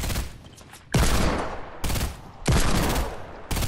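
Rapid bursts of gunfire from the Fortnite battle royale game, loud and close, arriving in several sharp volleys separated by brief gaps.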